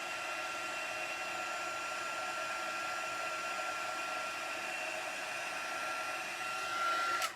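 Heat tool blowing steadily to melt embossing powder on cardstock for a wallet, a continuous close whooshing fan drone with a faint whine, switching off at the end.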